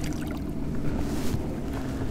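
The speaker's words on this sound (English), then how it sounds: "a boat comes off plane right there" A boat comes off plane nearby on Lake Pontchartrain, a steady low engine drone with water rush and light wind noise, fairly close and continuous.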